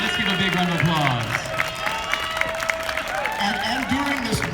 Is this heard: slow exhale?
no